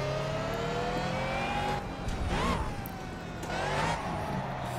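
Ariel Atom with a supercharged 2-litre Honda Civic engine in Project CARS at Silverstone, a steady close engine drone with rising and falling revs through gear changes, continuous throughout.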